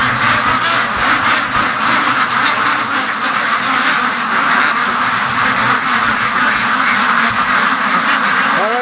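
A large flock of free-range ducks, hundreds of them kept in a pen after days of lockdown, quacking loudly and continuously close by in a dense, overlapping clamour with no pauses.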